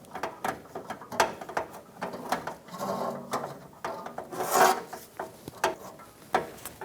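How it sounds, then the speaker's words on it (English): Hand ratchet with an extension and socket tightening a nut on a 2012-2018 Ford Focus purge solenoid valve, quiet rapid clicking in short irregular bursts close by. "Let's start this nut with our extension and socket."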